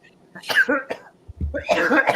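Two harsh coughs, close and loud, separated by a brief pause, with a little throat noise between them.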